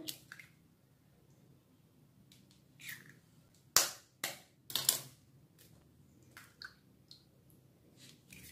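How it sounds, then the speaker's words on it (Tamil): Four eggs cracked into a bowl while making a bread masala omelette: a few sharp taps and wet squishy drips, spaced out and close, with quiet kitchen background between them. "எடுத்த 4 முட்டையும் ஒரு பவுல்ல உடைச்சு ஊத்திக்கிறேன்."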